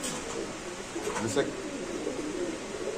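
Pigeons coo softly at a pigeon market, low and somewhat distant, under steady crowd noise and people talking nearby.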